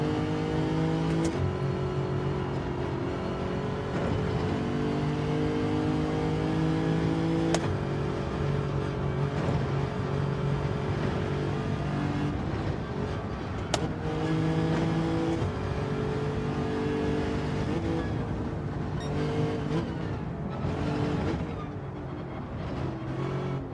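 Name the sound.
race cars driving in the video game Gran Turismo 7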